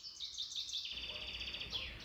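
Birds sing in a mountain forest near the Myhove ski resort in the early morning, with clear, close, repeated high chirps and trilling phrases over a quiet background.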